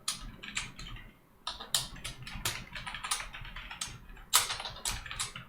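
Code is typed on a computer keyboard in quick, uneven bursts of close key clicks with short pauses between runs. The typing is fairly quiet and no one speaks over it.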